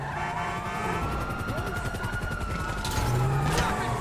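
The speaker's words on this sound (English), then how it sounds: "Oh, that's some serious shooting right there, bro." Rapid gunfire from a GTA-style video game, a steady rattling burst of shots over engine and siren-like tones, loud and continuous through the short stretch.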